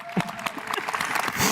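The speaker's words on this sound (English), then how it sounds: "All right, clap for the ironing." Brief burst of audience applause at a security conference talk, scattered claps filling the room at moderate volume for a moment.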